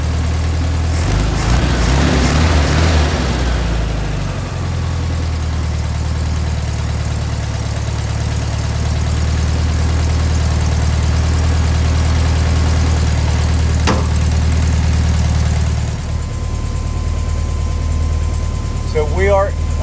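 A car engine idles steadily just under 1,000 RPM on a freshly installed Solex 34 PICT 3 carburetor, a loud, close, even low rumble throughout with a few brief clicks and rattles early on.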